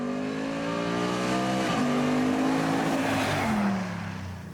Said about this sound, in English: S for sport holds the gears a little bit longer and higher up in the range, a little snappier and quicker on the shifts